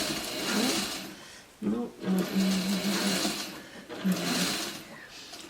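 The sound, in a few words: sewing machine quilting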